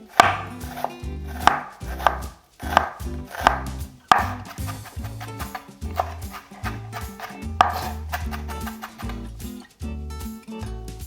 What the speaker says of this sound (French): Alors pour l'ail, comme d'habitude, nous écrasons d'abord en petits morceaux avec le couteau.